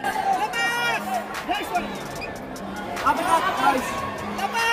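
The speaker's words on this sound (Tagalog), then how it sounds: "sa sandaling nayanig si Salado, maririnig ang reaksyon ng crowd dito sa Araneta" Crowd at a boxing match in Araneta Coliseum, a steady babble of many voices rising into louder reaction around the middle, with a commentator's voice over it.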